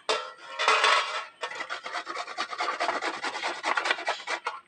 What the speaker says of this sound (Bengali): এইভাবে আমি সমস্ত পেঁপেগুলো ঘষে নেবো